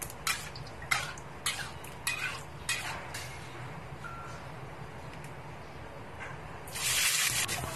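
Sichuan peppercorns and dried chilies stir-fried in oil for a dog's paw bean dish: a few sharp spatula clinks and scrapes against the wok, then a louder hissing sizzle swelling at the end.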